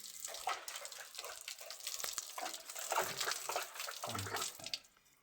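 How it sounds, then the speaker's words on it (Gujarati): A bathroom tap in a Bagidol village home lets water run, a close, uneven splashing stream with small bursts that tapers off near the end; no voices. "નળ આવી રહ્યા છે."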